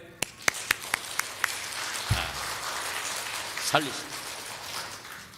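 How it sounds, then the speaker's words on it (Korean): A church congregation at Augusta Full Gospel Church claps during a Sunday sermon: a handful of sharp, separate claps at first, then a softer, diffuse patter of applause, with a voice breaking in briefly near the end. "박수 한번 할까요?"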